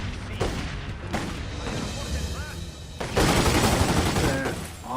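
Gunfire from a sniper in The Godfather II video game, heavy game shots and explosive bursts crowding a dense, loud mix, with a louder stretch of firing near the end.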